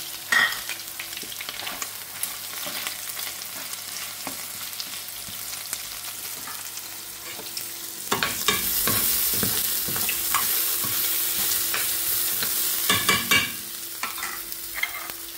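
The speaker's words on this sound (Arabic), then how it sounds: "وهون ذابت الزبدة راح احط عليهم البصل" Onions sizzling and frying in melted butter in a pan, a steady close hiss with stirring scrapes and bursts of louder crackle.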